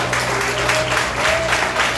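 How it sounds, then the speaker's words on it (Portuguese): Church congregation applauding during a communion service, steady dense clapping filling the space at an even level for the whole stretch with no talk over it. "Quantos podem levantar a sua mão e aplaudir a Ele?"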